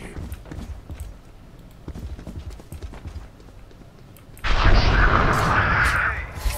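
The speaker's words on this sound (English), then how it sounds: "Flashbang!" A flashbang grenade going off in a tactical shooter video game: soft footsteps and light in-game clatter, then a sudden loud blast that holds as a sustained, harsh ringing wash for the last two seconds.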